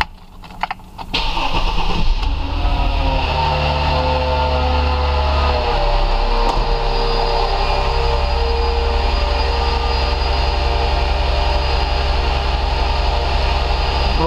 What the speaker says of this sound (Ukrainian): можна завести автомобіль, подивитися, які параметри по ОБД, хай гріється